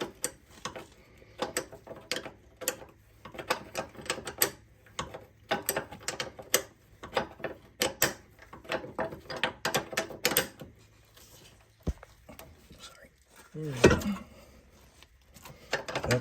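An open-end wrench tightens a bolt during a drum-to-disc brake conversion on a 2003-2008 Toyota Corolla, Matrix or Celica, giving quiet, irregular metallic clicks and ratcheting taps scattered over a faint background.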